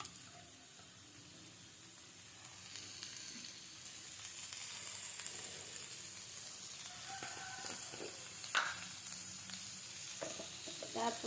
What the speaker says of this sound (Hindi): देखो मु टमाटो भी पकई देली